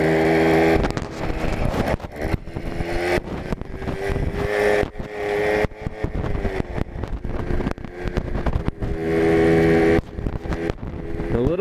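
A Tomos moped engine with Hammer clutches revs up and drops between gear changes on a ride, with a slight shudder at each shift, wind rushing past the microphone, loud and close.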